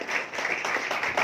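An audience bursts into a short, dense round of clapping at a teachers' day commemoration in Kolhapur, with steady applause throughout and a few sharper claps near the end.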